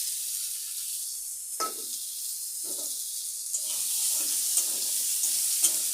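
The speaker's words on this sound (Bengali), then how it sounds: "একটু নাড়াচাড়া করে নেব।" Chopped onion, chili and ginger fry in hot oil in a pan, giving a steady bright sizzle while a utensil stirs and scrapes in several short strokes.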